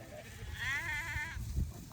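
A sheep on a farm lets out one wavering bleat at close range over a low background rumble, followed by a brief muffled thump.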